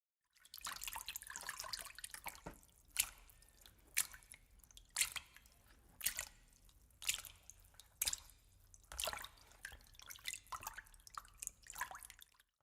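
Water in a basin splashed by hand to imitate people playing and swimming in the sea, a series of close, bright sloshes and drips in an uneven rhythm with short pauses between them.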